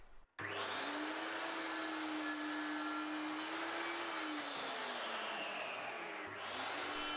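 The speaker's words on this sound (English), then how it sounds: "cut that back on the miter saw" Miter saw cutting 3x2 timber at a 45 degree angle: a loud, steady motor whine starts abruptly, holds for several seconds while the blade cuts through, then dips near the end.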